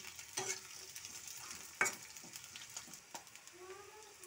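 Dried mola fish and garlic paste being stirred in a hot pan, a soft steady sizzle with scraping strokes of the spatula and one sharper clack of the utensil partway through, close and fairly quiet.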